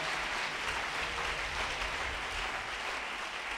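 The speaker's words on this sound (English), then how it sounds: "If you're clapping, clap for God." Sustained applause from a church congregation during a sermon in Uganda, a dense, even wash of many hands clapping continuously at moderate volume with no talk.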